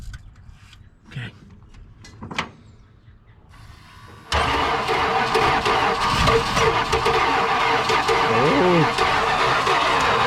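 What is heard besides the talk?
pump motor starting up on a flame-throwing Dodge D-200 truck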